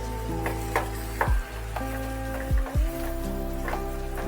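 Taro cooking with chopped tomatoes in a pan, stirred with repeated scrapes and soft knocks over a continuous sizzle and a steady low hum, close and fairly loud.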